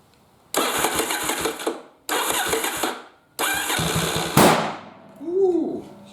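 Yamaha Virago motorcycle engine cranking in three bursts, catching loudly on the last try, then firing unevenly with a rough, stumbling idle and a blip of revs, nearby and loud.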